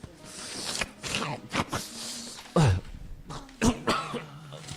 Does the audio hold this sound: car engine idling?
no